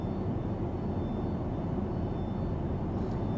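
Cruise in a Boeing 727-200 flight simulator game carries a thin, continuous high-pitched hydraulic whine beneath a steady, even wash of airframe and engine noise, unbroken from start to finish.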